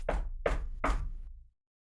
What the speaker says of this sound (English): Is the knocking at your door.